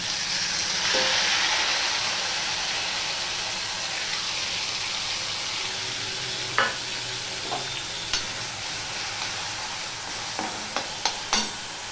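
Onion and garlic paste hitting hot oil that already holds cumin seeds and dried red chilli, giving a steady broad sizzle and frying hiss with a few sharp clinks of a stirring utensil toward the end.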